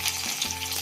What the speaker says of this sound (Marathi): आता भाजी फोडणी टाकते मी.